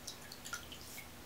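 Water drips in quick, light drops as a shoe-cleaning brush is lifted from water, several small close plinks scattered over a quiet background, with no talk.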